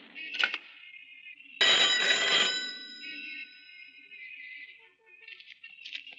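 A telephone bell rings in bursts, with a long loud ring in the middle and shorter trills on either side, clear and close in a quiet room.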